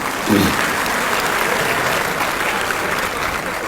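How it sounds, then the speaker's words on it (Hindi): An audience at a poetry mushaira in Lucknow claps steadily, a dense wash of applause that swells briefly near the start and then holds at an even level. "एक बार तालियां बजा दीजिए"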